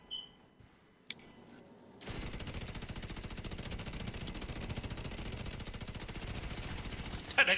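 Automatic gunfire in the video game The Division 2: after a quiet start with a couple of faint clicks, a long unbroken burst of rapid machine-gun fire begins around two seconds in and keeps going, loud and steady, until the clip ends.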